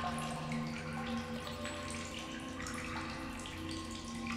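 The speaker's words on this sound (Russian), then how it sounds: "Громко вода течет." Water flows through a cave in The Solus Project video game, a steady close rushing hiss with a faint ringing tone and no pauses or voices.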